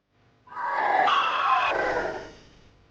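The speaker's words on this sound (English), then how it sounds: "The creature screamed as the knife connected, followed by what I can only describe as a whooshing sound and a thud." A monstrous creature lets out a loud, rasping scream that swells and holds for about two seconds before trailing off, struck by a knife in a dark basement.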